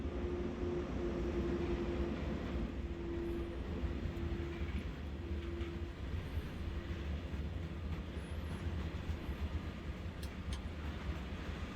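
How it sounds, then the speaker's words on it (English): In Train Sim World, on the Ruhr-Sieg Nord route, a passing train gives a low continuous rumble and rolling roar from the track, with a faint intermittent tone above it, steady and moderately loud, no speech. "Oh, here comes the other train."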